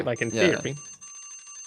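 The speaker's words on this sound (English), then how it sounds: "And that's our alarm." A bell-like alarm rings with steady, evenly repeating high tones after a brief burst of speech, continuing alone at moderate volume to the end.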